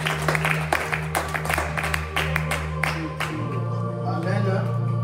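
A church congregation at a worship service applauds, with scattered claps over sustained music and voices in the room, fairly close and steady throughout.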